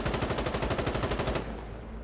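Rapid automatic gunfire in the shooter game Insurgency: Sandstorm, a fast burst of about a dozen evenly spaced shots lasting over a second before cutting off into a fading echo, loud and close.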